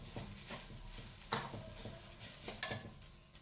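Grated coconut roasting in a pan for coconut burfi, stirred with a utensil over a steady low sizzle, with soft scrapes and occasional sharper clinks against the pan and no talking.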